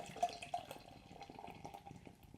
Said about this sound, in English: So let's give it a pour here.